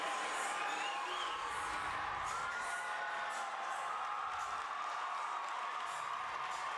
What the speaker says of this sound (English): And the crowd making some noise for the score.